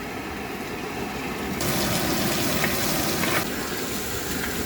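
Onion sizzling as it drops into hot oil in a pan with ginger and garlic for chilli chicken, a steady broadband hiss that swells louder partway through and stays constant.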